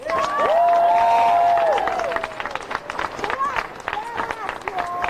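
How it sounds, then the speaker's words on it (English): A crowd at a Beto O'Rourke gubernatorial campaign stop at UTEP applauds and cheers for the college Democrats, with bright whistles rising over dense, loud clapping that thins out toward the end, with voices mixed in. "A round of applause for college Democrats at UTEP."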